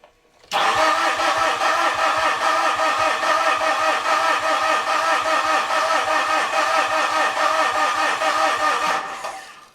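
A Mitsubishi Fuso FG truck with a no-start fault cranks continuously for about nine seconds, the starter turning the engine over in a fast, even chug, loud and close, without catching.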